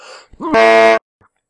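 A single sharp sneeze: a quick rising intake, then a loud, abrupt tonal burst that cuts off cleanly into silence.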